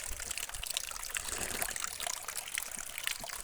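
Water trickles and pours softly in an open farm field during drinking, a faint continuous splashing dribble with no voices.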